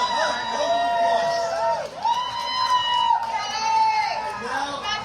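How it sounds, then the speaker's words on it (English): A crowd cheering and whooping for Dawn, several voices in loud, rising shouts that overlap and swell throughout. "Give it up for Dawn, huh? Round of applause."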